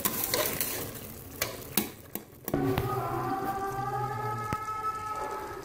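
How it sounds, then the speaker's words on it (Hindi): Mutton mince with potato fries in oil while a spoon stirs it. A quiet sizzle sits beneath sharp scrapes, and the spoon grinding on the pan gives off sustained squealing tones. "आप कीमे को हम तब तक भूनेंगे जब तक ये ऑयल ना छोड़ दे"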